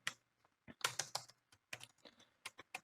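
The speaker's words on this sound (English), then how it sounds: "So just type here span" Someone types on a computer keyboard while coding a web page, producing irregular bursts of quick, close clicks and key taps separated by short pauses.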